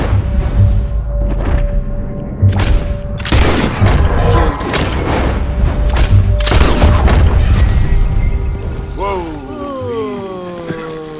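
Gunfire in the Western video game Red Dead Redemption 2, with dense booming shots and clattering action over a constant rumble, and sweeping tones near the end.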